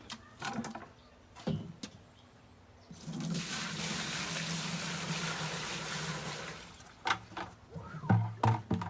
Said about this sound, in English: Here's 9 liters. 9 liters of water.